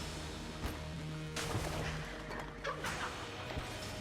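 Glass cannon firing flak shots in Enter the Gungeon: a rapid series of booming, crackling blasts over dense game noise and music.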